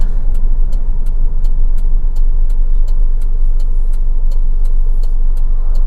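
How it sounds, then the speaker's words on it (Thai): A used car's engine runs as the accelerator is pressed during a turn, heard as a loud, steady engine and road drone from inside the cabin with a regular light ticking over it. "เดี๋ยวลองกดคันเร่งดูนะฮะ"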